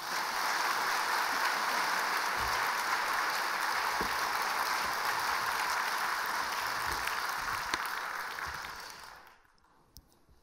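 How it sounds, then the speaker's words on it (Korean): A church congregation applauds for the pastor coming forward at a Sunday worship service, loud and steady clapping filling the room for about nine seconds before it fades out quickly. "박수로 한번."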